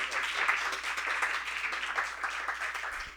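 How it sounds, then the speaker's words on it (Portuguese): An auditorium audience applauds at the close of a conference event, steady dense clapping from many hands throughout, fairly distant and even. "Mais uma salva de palmas para eles"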